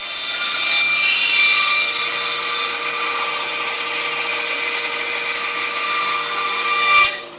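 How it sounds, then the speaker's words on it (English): A bandsaw cuts excess wood off a 1964 Fender P Bass neck, making a steady, loud, close rasping whine that holds for about seven seconds before the blade clears and it drops away. "get it cut that excess off right there. So back to the bandsaw."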